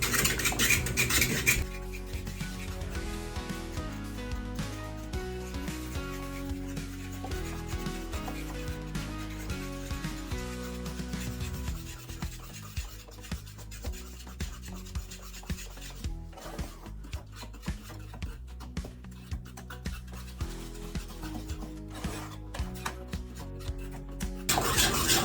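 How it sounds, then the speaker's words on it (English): A spoon scrapes and rubs around a pot while peanut butter and chocolate no-bake cookie mixture is stirred, a steady, close, gritty rasping that continues for the whole stretch with no voices. "Now you're just going to take this and stir it till you get a consistency."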